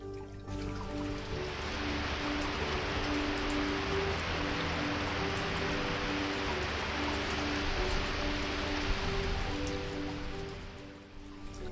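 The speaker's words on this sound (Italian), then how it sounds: "La pioggia che bagna la terra rifornisce i mari, i laghi" Steady rain falls continuously, a dense, even hiss of drops on surfaces that stays constant throughout with no voices.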